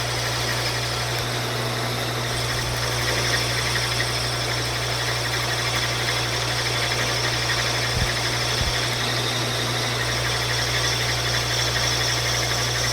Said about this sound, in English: you kind of hear the difference between heavy cutting and smaller cutting when you get closer to the end